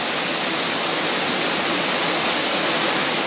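Loud, dense roar of a Havasupai waterfall in the Grand Canyon, a constant close wash of falling water with nothing else audible.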